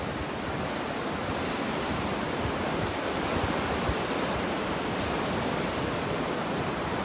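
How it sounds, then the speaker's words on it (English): Ocean surf rolls on as a continuous, even wash of broadband noise, steady and fairly close, with no distinct breaks or voices. "I've had this ocean as this constant companion for 3 months. It never shuts up."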